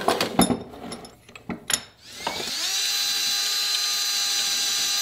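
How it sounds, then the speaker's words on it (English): After a few metallic clanks, a power drill spins up into a steady high whine as it drills out stripped bolts on car suspension parts, roll center adjusters and ball joints, close and continuous. "Okay, all three is drilled out."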